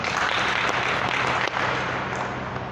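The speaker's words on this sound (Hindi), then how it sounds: "आइए आप सबों की ओर से हम सब मिलकर ताली बजा के उनको धन्यवाद दीजिए।" An audience at a church novena gathering applauds to thank a visiting priest, with dense, steady clapping that holds at full strength from start to end and no voices over it.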